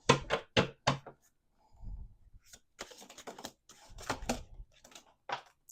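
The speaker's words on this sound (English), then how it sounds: "Let's do 2 more shuffles." Tarot cards shuffled by hand, giving crisp bursts of riffling and tapping with short pauses between them, some soft thumps of the deck, and no talking.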